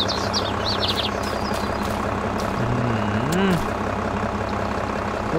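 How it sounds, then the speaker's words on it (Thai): A tractor works in a flooded rice field to pull out a small farm truck that is stuck and sunk in the mud, its engine running loud and steady with a rising, falling whine. "รถไถมาดึงรถอีแท็กครับผม"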